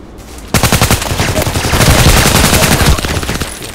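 MK14 EBR CQB rifle firing in the Contract Wars game: a rapid, loud burst of gunshots starts abruptly after a quiet moment and runs steadily for over two seconds before stopping, with scattered fainter shots trailing off.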